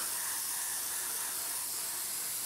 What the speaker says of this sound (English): Okay, so just go spray a coat of this over the top.